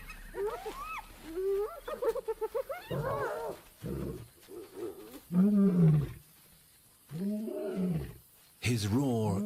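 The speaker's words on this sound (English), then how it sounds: "His roar is a powerful weapon." Old male lion in the South African savanna after taking back an impala kill, giving a series of loud, deep roars and grunts that rise and fall in separate bursts, with a narrator speaking between them.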